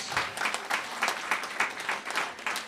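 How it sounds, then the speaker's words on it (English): Modest applause from a small congregation for the Megillah readers at a Purim service, sparse clapping that pulses in a loose rhythm at a fairly low level with no voices. "Can we give a round of applause to all of our readers?"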